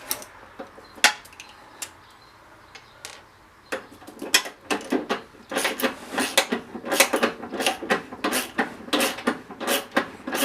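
A wrench tightening a bolt on a Huskee LT4200 mower deck belt gives quick, dry metallic ratcheting clicks in irregular bursts that grow denser and louder toward the end.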